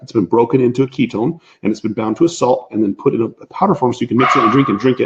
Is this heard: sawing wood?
no